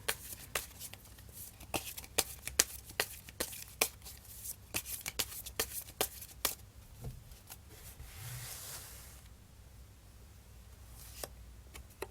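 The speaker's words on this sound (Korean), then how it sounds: "추가 카드 한번 뽑아볼게요." Tarot cards shuffled and drawn by hand, a dense run of crisp riffling snaps and flicks close up, then a softer sliding rustle as a card is pulled, with scattered taps after; no talking.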